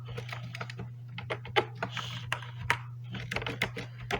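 Code is typed on a computer keyboard in a quick, uneven run of sharp clicks that sits close to the listener. A steady low hum runs underneath and no one speaks.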